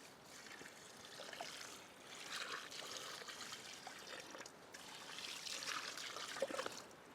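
Water tipped from a container onto hot rocks at a lakeside campsite, a steady trickling and splashing pour with a soft hiss, running continuously at close range with no talk.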